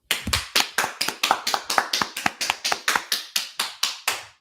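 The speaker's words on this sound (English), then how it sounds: "let's clap it up" A group of people claps together in a steady, rhythmic beat, about four claps per second, close and loud, with no talking.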